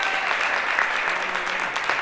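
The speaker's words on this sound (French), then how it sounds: "Est-ce qu'on peut les applaudir?" An audience at an entrepreneurship panel discussion applauding, dense continuous clapping from a roomful of people throughout, close and fairly loud.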